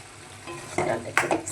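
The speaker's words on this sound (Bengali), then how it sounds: "ডালটা একটু মিক্স করে দিই" Dal being stirred into spices frying in a pan, with a soft scraping and sizzling that builds into a couple of louder clattering stirs near the end.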